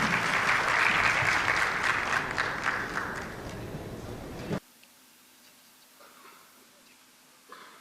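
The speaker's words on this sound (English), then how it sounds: "please give a big round of applause to our panelists" An insurance-event crowd gives panelists a round of applause, full and dense at first, then thinning before it cuts off abruptly, leaving near silence with a faint voice and a small knock near the end.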